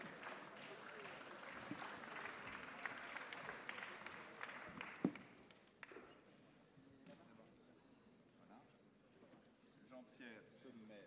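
Applause from a conference audience, fairly faint and distant, strongest early and thinning out with scattered claps and some background talk later.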